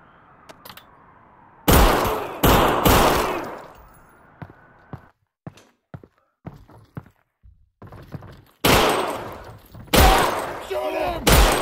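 Gunfire in the game Half-Life: Alyx, with heavy clustered bursts at the start and end and scattered single shots and thuds between them, loud and close, mixed with short shouted voices.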